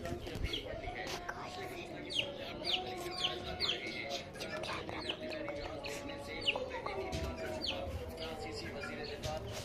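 Chicks and chickens cluck and peep nearby, with repeated high chirps and clucks. People's voices and household noise mix in beneath them.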